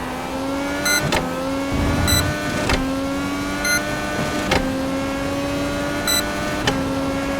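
An IndyCar at Mid-Ohio in iRacing runs with a steady engine whine that climbs in short stretches, broken by repeated sharp clicks and brief dips as it slows hard into a corner.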